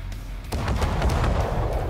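Secondary guns on a battleship fire in World of Warships, a dense run of loud, rapid booms rolling over one another into continuous rumbling.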